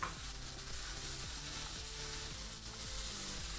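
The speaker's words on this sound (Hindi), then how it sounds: "कीमे को आपने खूब अच्छे से भून लेंगे ताकि इसका जो आप कह लें कि कच्चापन है वो सब ख़त्म हो जाए" Calf mince (keema) fries in a pan with a loud, steady, dense sizzle that runs unbroken throughout, with faint low tones beneath.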